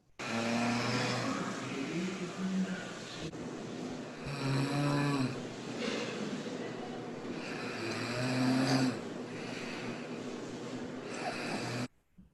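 A patient lying on their back imitates snoring, producing a series of loud, rasping, throaty snores in rhythmic bursts with short pauses between them, close and clear.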